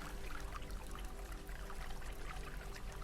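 A small, clear stream of water flows steadily with an even, continuous trickling wash and no pauses. It sits at a gentle, moderate level throughout.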